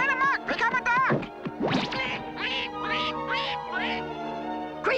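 Cartoon ducks from the Smurfs, Smurfs turned into ducks by a spell, quack loudly in a rapid jumble of nasal, overlapping calls, some stretched and wailing, filling the whole stretch near and busy.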